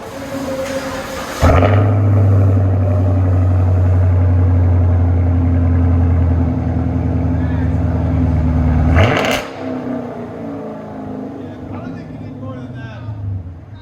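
Car exhaust fitted with an X-pipe and Dynomax Race Bullet mufflers starts with a sharp burst, then settles into a loud, steady deep idle rumble, gives a brief rev, and then cuts off to quieter background.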